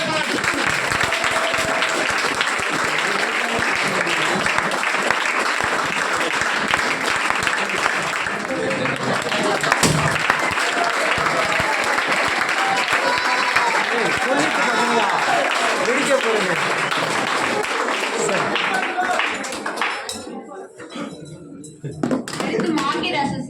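An audience applauds Miss Roja at an awards celebration in a big, dense wash of clapping that runs for about twenty seconds before thinning out, with voices mixed in underneath.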